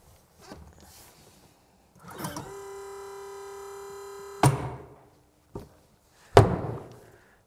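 A Minn Kota Raptor shallow water anchor lowers by motor with a steady electric whine lasting about two seconds that ends in a sharp clunk, followed by faint shuffling and a later close thud.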